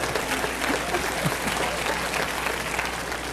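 Brief burst of audience applause during a motivational speaking event, steady moderate clapping from a crowd filling a large room.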